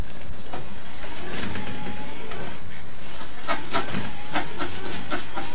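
Slow windscreen wipers on an Alfa Romeo run in a steady rhythmic series of mechanical sweeps and thumps against a constant background hum.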